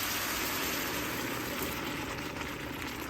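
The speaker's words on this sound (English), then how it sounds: "Put a little water in it to stop the cooking" Water poured into a pot of browning meat with garlic, onion and peppers, making a steady broadband gush and sizzle that runs continuously, close and fairly quiet, with no talk over it.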